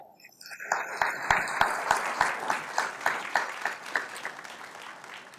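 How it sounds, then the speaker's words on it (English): Applause from the audience at a city council meeting, starting after a moment and swelling into a sustained round of clapping with a few sharp, close claps standing out. "I think that deserves a round of applause."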